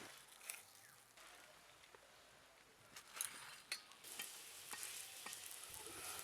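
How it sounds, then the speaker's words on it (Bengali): Cauliflower paratha fries quietly in a pan, a faint soft sizzle with scattered scrapes and light clinks as it is turned, growing slightly louder toward the end. "এইভাবে করে সব পরোটাগুলো ভেজে নেব।"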